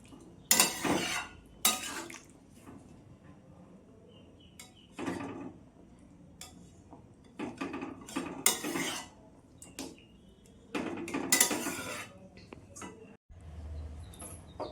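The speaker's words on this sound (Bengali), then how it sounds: "কয়েকটা আলু আমি এইভাবে" Potatoes being mashed in a pan with a utensil for a Bengali aloo dum, giving intermittent scraping, clinking bursts of metal on metal, close and fairly quiet, separated by short pauses.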